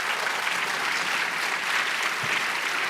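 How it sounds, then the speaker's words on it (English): Dense, steady audience applause for the panelists at a public health panel event, many hands clapping at an even level throughout with no talk over it. "let's give a round of applause to our panelists"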